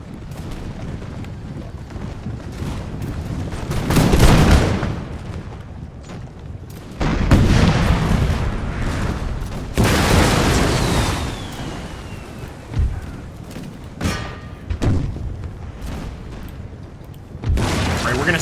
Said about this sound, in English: let's get a nice shot there on that artillery